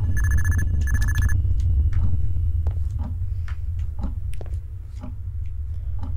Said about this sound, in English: was that the phone?